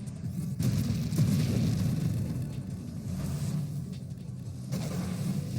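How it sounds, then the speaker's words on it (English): Explosions in the Nova Drift video game, a dense run of low rumbling booms that overlap into a continuous roar, with a few sharper bursts standing out. "Also a lot of explosions."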